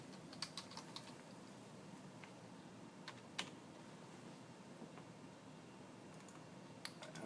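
Typing on a computer keyboard at an automotive dealership, a steady run of light, close key clicks with small pauses and a few sharper taps, no talking over it.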